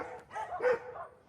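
Dogs bark and whimper in short bursts, moderately close, with a few yips over a quiet background.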